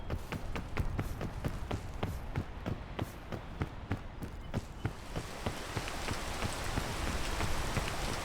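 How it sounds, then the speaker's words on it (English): Steady rain falls in the PEAK video game, a dense, even hiss with scattered close tapping drops, continuous and moderately loud for the whole stretch with no talking. "Oh, it's gonna rain."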